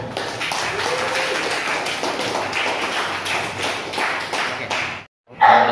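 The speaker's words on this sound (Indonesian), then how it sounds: "Tepuk tangan untuk Anda." A school audience claps in a loud, continuous patter of hand claps that runs for about five seconds, then breaks into a brief silence before a sharp burst of sound returns at the end.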